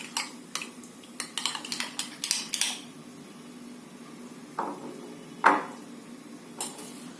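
A utensil mixes a yogurt and lemon juice chicken marinade in a bowl, giving a run of quick clinks and scrapes, then a few sparser knocks against the bowl, close and fairly quiet.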